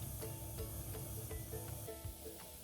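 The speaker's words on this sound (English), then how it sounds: "While I'm letting the pressure canner steam" Steam venting from a pressure canner on the stove before the pressure valve goes on, a continuous soft hiss with faint rhythmic ticking, no voices.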